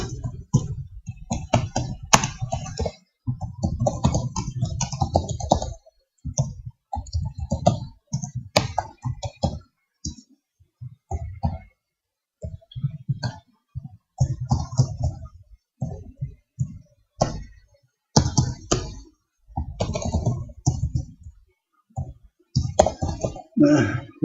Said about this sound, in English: Because the slow part is my typing.